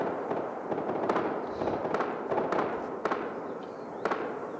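Sharp popping gunshots crack out in scattered bursts, a dozen or so spread irregularly over a low background murmur, moderately loud and somewhat distant.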